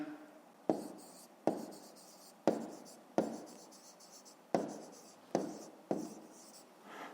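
Pen strokes on paper while a fifth-grade math exercise is written out, a series of about eight sharp taps and scratches at a steady rhythm, close and fairly quiet.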